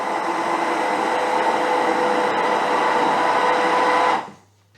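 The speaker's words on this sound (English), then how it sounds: "Blitz with a stick blender." A stick blender whirs steadily for about four seconds while blitzing a thickened mixture in a jug, a loud, even buzz that cuts off abruptly, leaving near silence.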